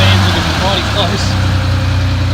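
Car engine idling in a garage, a steady low rumble with an even throb, close and loud, with a voice briefly over it.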